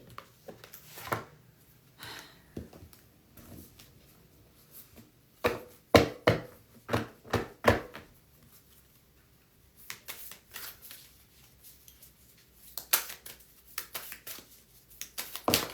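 Deck of cards being shuffled at close range, bursts of riffling and slapping with pauses between them, moderately quiet and crisp.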